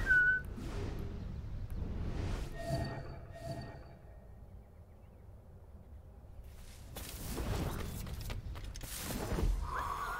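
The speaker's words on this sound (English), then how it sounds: "we gotta be a little closer to them for them to hear the whistle" A whistle sounds in Assassin's Creed Black Flag, with a few short, clear whistled notes that come and go over quiet game ambience, near and fairly soft.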